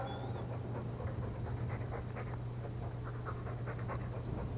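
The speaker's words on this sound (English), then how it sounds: "I'm sick of what's-his-name staring and panting" A Mabari war dog from Dragon Age II pants steadily in quick, rhythmic breaths, fairly close and continuous over a low steady hum, with no talking.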